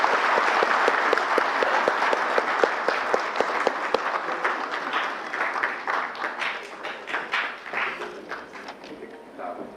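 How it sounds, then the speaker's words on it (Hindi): An audience at a formal Aadhaar and UIDAI event in India claps to welcome guests. Dense, lively applause starts strong, then thins into scattered, uneven claps that fade toward the end. "जोरदार तालियों के साथ उनका स्वागत करें।"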